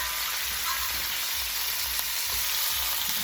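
Lamb shanks sizzle steadily in a hot pan just after being flipped, a dense, continuous hiss of frying fat that stays close and fairly loud throughout, with no talking.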